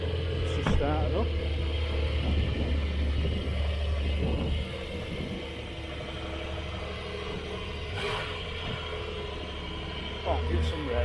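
A freshly started Aston Martin engine runs steadily at a classic car show, a continuous low rumble with a brief louder burst near the start and again near the end, with outdoor wind and people talking nearby.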